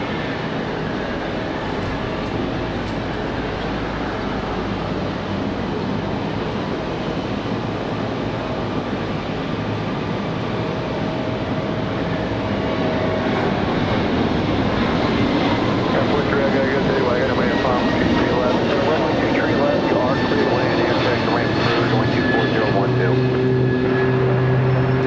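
An Air Canada Airbus A220 jet departs from Raleigh-Durham airport, its engine roar building from a muted rumble to a louder, fuller rush with rising whine, while people talk over it.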